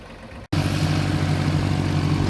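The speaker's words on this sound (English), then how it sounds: "You can hear the tractor going" A small tractor mowing a field: a steady, continuous engine rumble runs close by after a brief dropout at the start.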